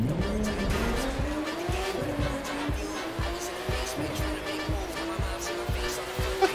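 A car in the racing game The Crew 2 revs with a rising, shifting engine tone and squealing, skidding tires, loud and continuous throughout.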